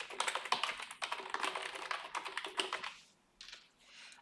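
Someone types an email address on a computer keyboard, producing a quick, close run of light key clicks that pauses briefly and then resumes with a few more taps.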